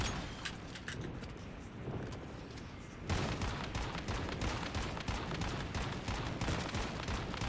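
Shotgun blasts loaded with steel ammo in the survival shooter Once Human, a dense run of rapid overlapping shots that turns louder and harsher midway, with no talking over it.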